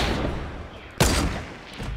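Gunfire in a Fortnite Battle Royale duo match, a sharp burst of shots after a stretch of dense, rumbling game noise.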